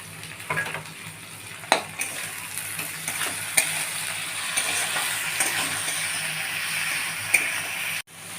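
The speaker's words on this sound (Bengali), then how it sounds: "কড়াইশুঁটিগুলো দিয়ে দিচ্ছি," Green peas added to a wok of frying onion, chilli and ginger for chira pulao sizzle steadily while a spatula clinks and scrapes against the pan at intervals.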